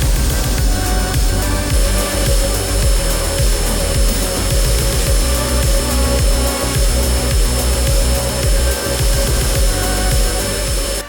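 Loud, continuous machining noise from a CNC machine cutting a flat-bottomed pocket with a tiny 0.6 mm ISCAR end mill, a steady dense grinding whir with rapid rhythmic scraping pulses throughout, close and without voices.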